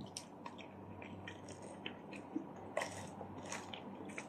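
Crisp bites and chewing of a French bread baguette with a crunchy crust and soft inside, a series of close, moderately quiet crunches and mouth sounds at an irregular eating rhythm, with no talking.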